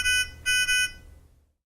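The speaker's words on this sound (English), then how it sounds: "You can silence the audible alarm for 2 minutes by momentarily pressing the on-off button." A Nonin PalmSat 2500 handheld pulse oximeter sounds its audible alarm: a shrill electronic beep, then a pair of close beeps, loud and clear with no talking.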